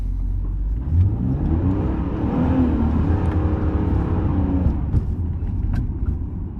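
A BMW E39 engine revs up steadily from idle and holds a rising, throaty drone for several seconds before easing off, loud and close.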